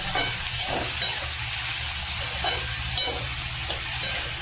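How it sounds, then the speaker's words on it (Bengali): Food frying in a pan with soybean oil, eggs nearby, a steady broadband sizzle and hiss running throughout with occasional brief crackles and pops, moderately loud and close, with no talking. "এখন এটাকে আমি সুন্দর করে ভাজবো।"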